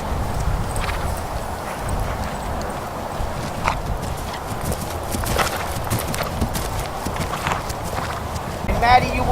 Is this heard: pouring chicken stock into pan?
no